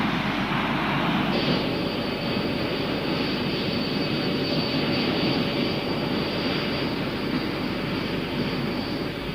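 Twin RB199 jet fighter engines in a flight video game roar as a steady, dense, broadband rush that holds loud and unbroken throughout, with no talk.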